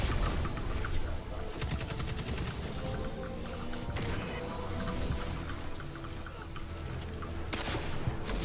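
Sustained gunfire in the Destiny 2 Leviathan raid, a steady dense barrage of shots and booms with scattered sharp cracks over a busy game soundscape, loud throughout.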